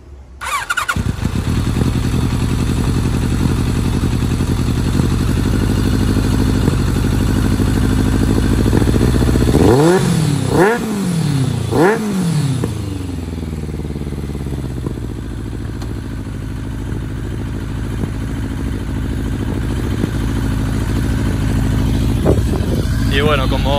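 A Kawasaki GPZ 1100 cafe racer motorcycle engine cranks and catches, then settles into a steady, close idle rumble, with a few brief revving squeals along the way.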